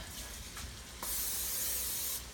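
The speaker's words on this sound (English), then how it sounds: "Just lightly grease, so I'll just spray it" A short hiss of an aerosol cooking spray greasing a baking dish, one brief burst then a steady spray lasting about a second, close and fairly quiet.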